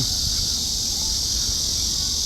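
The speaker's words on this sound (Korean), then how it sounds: "매미 소리 아주 그냥" Dense, steady cicada buzzing in summer near a covered stream by a market in Gwangju, a loud high drone continuing without break throughout.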